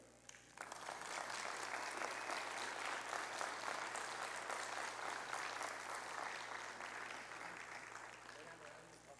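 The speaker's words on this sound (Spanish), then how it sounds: "Regálame otro aplauso, por favor, que no los escuché tan bien" A large audience at a jaguar conservation talk in Michoacán, Mexico, claps steadily for several seconds, a dense sustained wash of applause that starts abruptly and slowly tapers toward the end.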